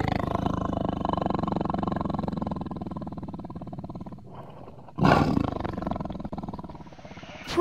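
A tigress in Kanha National Park lets out deep, drawn-out roaring calls, one long rumbling roar and then a second louder burst, heard fairly close in the forest.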